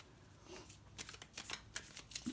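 A small tarot card deck is shuffled by hand, giving quiet, rapid riffling and flicking bursts, with no voices.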